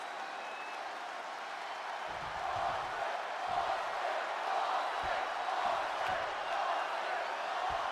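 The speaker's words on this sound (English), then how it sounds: "Crowd chanting for their champion here." A crowd roars and cheers for the champion in a wrestling video game, a steady broad wash of arena noise that swells slightly partway through, with scattered thumps underneath.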